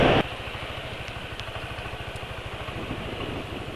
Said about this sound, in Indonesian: seperti ini ya suara motor penulis ya